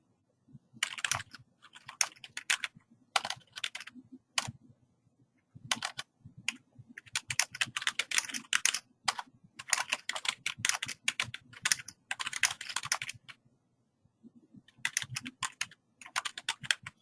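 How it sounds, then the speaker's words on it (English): Someone types on a computer keyboard, producing close, crisp bursts of rapid key clicks separated by short pauses, with a few louder keystrokes, over a quiet background. "So I'm going to type out a message here."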